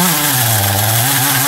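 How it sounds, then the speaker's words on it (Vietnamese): A G375 chainsaw cutting down a tall yellow-flowered tree near a house, engine roaring loud and steady at high revs with a slight dip in pitch under load. "Cái máy cưa mình chú mình đang sử dụng đó là máy cưa G375 nha các bạn"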